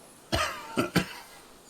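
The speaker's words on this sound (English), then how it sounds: "Coughs once more, then puts his hand on his belly." Three harsh coughs from one character in the video game Disco Elysium, a single cough followed by a quick pair, close and clear against near silence.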